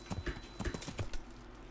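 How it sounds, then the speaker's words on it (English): Rhythmic clip-clop of horse hooves at a steady trot in the video game Kingdom Come: Deliverance, fairly close and moderately loud, with no voices over it. "Albrecht, you fucking useless horse at times."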